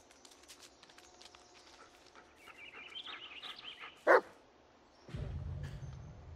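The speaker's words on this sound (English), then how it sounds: "Listen to his barking and watch his body language." A dog in the horror game Blair Witch gives a single sharp bark midway through, set over quiet forest ambience with faint rustling and a low rumble that follows.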